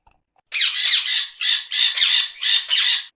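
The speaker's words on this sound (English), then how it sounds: "It quacks." A duck quacks in a quick series of about six harsh, nasal calls, close and clear against silence.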